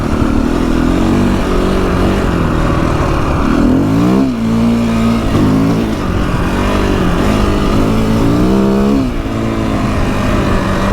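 A KTM 250EXC-F four-stroke dirt bike is ridden on sand, its engine droning loud and continuous as the revs rise and fall in waves, with no talking.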